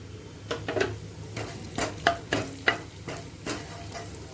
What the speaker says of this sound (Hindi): लीजिए जीरा जो है तड़क गया